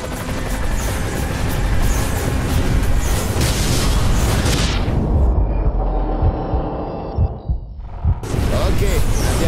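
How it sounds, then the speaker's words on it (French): Explosions in the racing video game Split/Second Velocity, with a dense roaring rumble of blasts and engine noise that cuts out abruptly to near quiet before the loud roar returns. "déclencher des explosions plus destructrices lorsque le rouge apparaît sur les pilotes"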